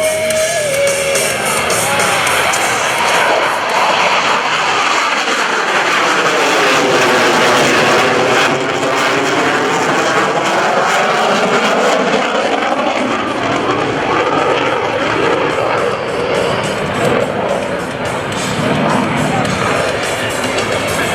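A CF-18 Hornet lights the afterburners of both engines on its takeoff roll at an airshow, landing gear still down, producing a continuous loud, overwhelming jet roar with shifting pitch as the aircraft passes.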